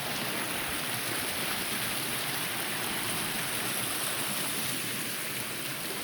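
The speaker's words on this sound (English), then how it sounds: "And that's water running off the ridge." Rainwater runs off a ridge into a creek swollen by torrential rain on a farm, producing an even, unbroken rushing hiss of moderate loudness.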